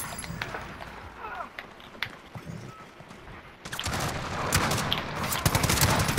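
Gunfire rings out in the shooter Call of Duty: Modern Warfare. Sparse sharp shots come first, then a dense run of rapid automatic fire and loud bangs in the second half. A voice talks over the early part.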